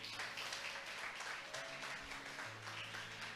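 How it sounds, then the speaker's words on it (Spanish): A church congregation applauds in a steady, even wash of clapping that carries through without pause, heard at a moderate distance with no voices over it. "¿Cuántos le aplauden a Jesús por esto, hermano?"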